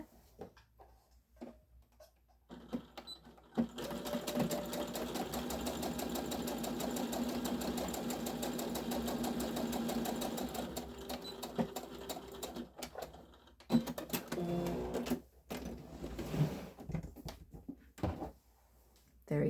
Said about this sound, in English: Sew that.